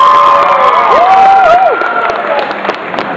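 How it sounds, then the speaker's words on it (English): An audience at an ice cream cake eating contest for pairs cheers and applauds for the contestants, with a loud rising whoop standing out from the crowd noise before it tapers off. "Give a round of applause for all the contestants."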